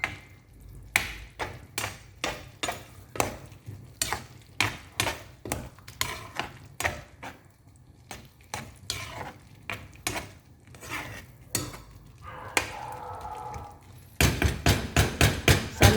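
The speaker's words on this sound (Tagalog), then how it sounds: "Halo-halo natin ito mga 3 minutes lang hanggang sa matunaw yung mozzarella." Macaroni with melting mozzarella being stirred in a pan over low heat, a steady series of sharp utensil scrapes and knocks against the pan in a regular rhythm, close and fairly loud, with a faster burst of strokes at the end.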